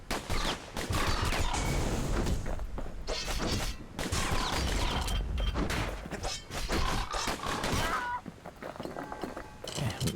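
Pistol gunfire in the video game Bastion, with rapid repeated shots and impacts coming in dense bursts throughout, mixed with game effects and a voice talking over the action.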